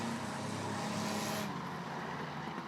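Stock race cars in a B-main heat at Rockford Speedway roar past, a loud sustained engine drone that swells and then fades as the pack goes by.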